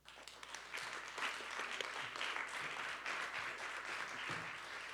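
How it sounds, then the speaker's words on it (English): Applause from a conference audience at re:publica Detroit for the event partners, building from a few claps into steady, moderately loud clapping from many hands across the room. "a big applause to them, please"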